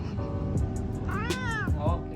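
A talkative hostel cat near Bali or Java gives a few close, drawn-out meows, one rising and falling sharply, over a murmur of background noise.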